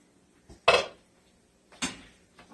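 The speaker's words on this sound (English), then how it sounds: "Let me put these in the sink real quick and wash my spoon off." Dishes and a spoon clatter in a home kitchen sink during washing, in two louder bursts of clinking and scraping with quieter knocks between, close by and with no talking.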